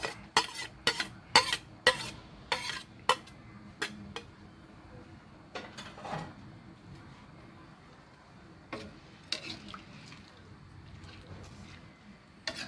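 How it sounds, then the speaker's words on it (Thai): A pot of chicken curry with fermented bamboo shoots being stirred, its ladle clacking and scraping against the pot in quick, irregular bursts that thin out into a few sparse taps, close and fairly quiet. "คนให้เข้ากันครับ"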